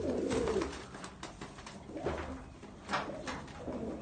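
Pigeons kept by a fancier coo softly in a loft, repeated low throaty calls close by over a quiet background with no talking.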